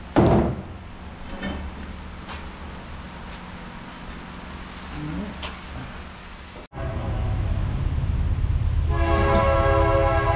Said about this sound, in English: bear with me as the train blows by